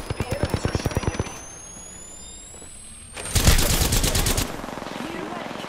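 Automatic gunfire in the battle royale game Apex Legends, a loud rapid burst of evenly spaced shots at the start, then a denser, harsher volley of fire a few seconds later.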